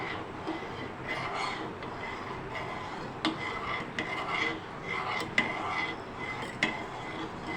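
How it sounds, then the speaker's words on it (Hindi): A spoon scrapes and stirs steadily through ground rice in a metal pot for poppy seed kheer, soft repeated strokes with a few sharper clinks against the pot, close and low in level. "अब इस स्टेज पे मुसलसल जो है कंटिन्यू जो है स्पून को हम चलाते जाएंगे"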